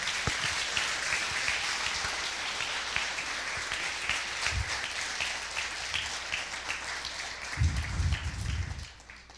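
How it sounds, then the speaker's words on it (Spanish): A church congregation applauds during a Spanish-language sermon, sustained dense clapping throughout with a few low thumps and a brief swell near the end. "Dele un aplauso a Dios en este día."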